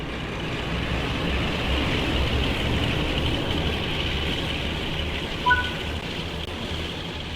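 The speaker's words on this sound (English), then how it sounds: "With the train now moving" A Great Western Express train in Train Sim World 3 begins to move, giving a steady low rumble and engine drone with a brief metallic squeal partway through, alone and without talk.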